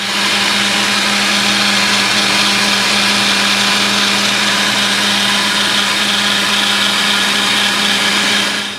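A blender whirs steadily while blending a marinade sauce for grilled chicken kabobs, a loud continuous motor drone with no pauses and no talk.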